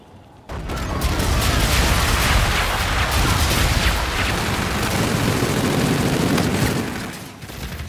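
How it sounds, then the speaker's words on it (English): Dense, sustained gunfire and bombardment in a Call of Duty: Infinite Warfare hardpoint match on PS4, a loud continuous barrage of shots and blasts running for several seconds after a brief quiet start. "Friendly bombardment incoming."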